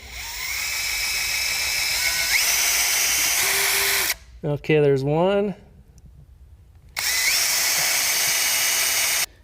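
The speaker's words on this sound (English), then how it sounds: "we're going to go ahead and pre-drill a couple of holes dead center" A power drill whines steadily at high speed pre-drilling holes for a shutter bi-fold track, pauses while a person speaks briefly, then spins up again for another long, loud burst.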